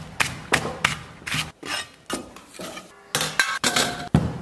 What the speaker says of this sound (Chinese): 咱们先切点葱姜啊